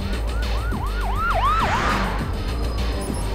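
Police car sirens wail in a rising-and-falling pattern in the Watch Dogs video game, several quick cycles over a dense rumbling city backdrop. The sirens are loud and close, then fade into the general traffic noise.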